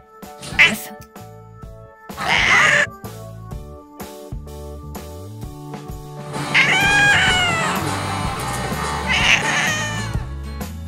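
A pet cat meows several times, a short meow early and then longer drawn-out, wavering cries, over soft background music with a little talk.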